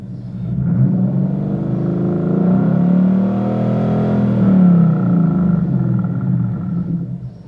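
Ford Mustang 5.0 V8 engine, 2011-14 model, held at a high rev during a misfire test for a detected misfire fault: a loud, sustained throaty drone that swells and eases slightly, with no talk over it.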